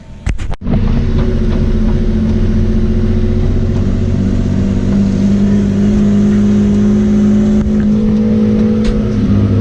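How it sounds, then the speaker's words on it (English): A loud, raspy straight-piped BMW-powered Volvo 740 engine idles and revs up close at a raceway, with a brief sharp crackle at the start and then a harsh, steady drone. "this car is full straight pipe right now. It's gonna sound pretty obnoxious."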